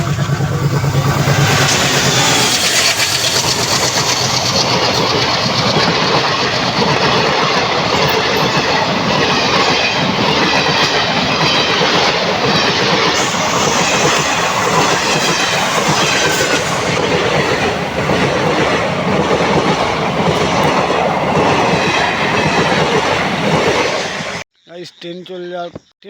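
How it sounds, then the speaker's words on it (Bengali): A train passes close by on a railway line in the dark, its loud, continuous rumble and rhythmic clickety-clack of wheels filling about 24 seconds before cutting off abruptly, with voices faintly present under the roar. "আর ট্রেন চলে আসছে সামনেই, আর আমরা এখন ট্রেনের জন্য এতক্ষণ অপেক্ষা করছিলাম, আর ট্রেন এখন চলে এলো।"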